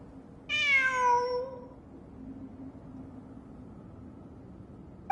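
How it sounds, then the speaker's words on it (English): A cat meows once in the Genshin Impact video game, a clear drawn-out call lasting about a second, followed by a faint steady background hum. "I'm not hearing things. It really is a cat."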